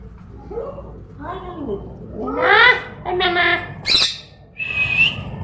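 A parrot gives a run of harsh squawks and screechy calls in quick succession, loud and close by, near a rice field.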